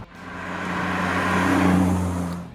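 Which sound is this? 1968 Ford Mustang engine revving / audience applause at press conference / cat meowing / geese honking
1968 Ford Mustang engine revving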